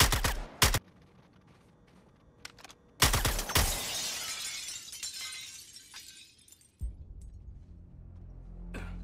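Gunfire shattering glass in the Suicide Squad: Kill the Justice League video game: sharp shot bursts, then a loud, bright crash of breaking glass with tinkling debris fading out, followed by a low rumbling tail.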